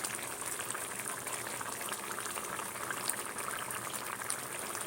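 Red lentil dal with prawns, finished with garam masala and ghee, simmers in a pot with a steady, soft bubbling hiss that stays even throughout, quiet and close, with no voices.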